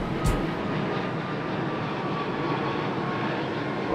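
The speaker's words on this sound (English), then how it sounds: "the timing was impeccable of that airplane" A fixed-wing airplane flying overhead in Honolulu gives a steady, broad engine roar that fills the whole stretch at an even level, with no speech.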